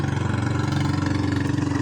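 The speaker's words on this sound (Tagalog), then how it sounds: "Ay nagmumotor na yan mga igan o." A small fishing boat motor chugs steadily at idle, a rapid, even putter running throughout.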